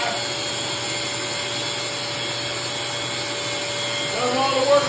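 A Wen drywall sander works across a wall, giving a continuous motor whine with a vacuum-like rushing hiss that holds steady and swells slightly at the end.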